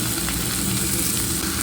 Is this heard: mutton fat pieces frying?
yes